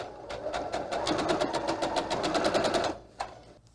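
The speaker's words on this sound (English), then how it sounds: "go ahead and sew all the way down each side" Sewing machine stitching a seam down the side of a fabric car trash bag, a steady rapid needle clatter running for about three seconds at close range, then stopping with a single click.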